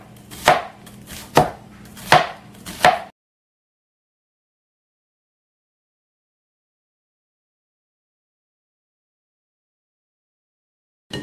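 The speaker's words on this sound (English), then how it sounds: "You're going to chop up a whole onion." Four sharp, evenly spaced knife chops through a whole onion land close and crisp on a cutting board, then the sound drops to silence, with one faint knock at the very end.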